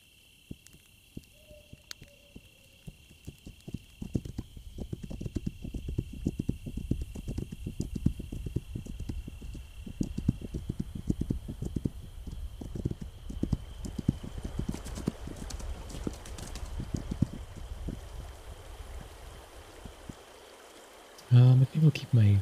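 Steady clip-clop of horse hooves in the survival game This Land Is My Land, a long run of close, even hoofbeats over a faint background wash, ending in a short burst of louder sound.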